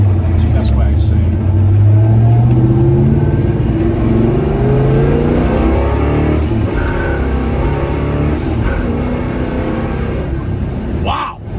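A 1966 Pontiac GTO accelerates hard and shifts through its gears, its loud, close engine roar climbing in pitch, then dropping at each shift before rising again.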